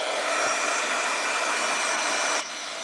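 A heat tool blows hot air over a shrink plastic keychain, a steady close whooshing roar that holds level, then drops slightly in loudness near the end, with no talking.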